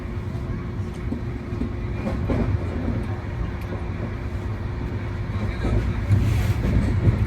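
Passenger train on an overnight run from Kolkata to Varanasi, rolling along the rails with a steady low rumble and rattle that swells slightly toward the end, heard from inside a crowded carriage.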